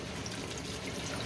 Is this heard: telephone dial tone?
no